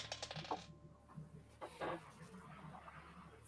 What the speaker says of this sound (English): I just dropped dice.